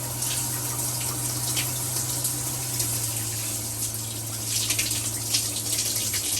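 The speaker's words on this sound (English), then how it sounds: "So we got hot water finally in our bus." Hot water running steadily from a tap inside a converted bus, a continuous hiss of flowing water with a low pump hum beneath, close and unbroken.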